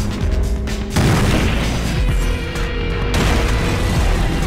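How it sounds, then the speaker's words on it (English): A wall mine blows up in Splinter Cell, a loud, close boom that rolls into a sustained rumbling roar with a second surge of blast noise partway through, with no talking. "That wall mine explodes."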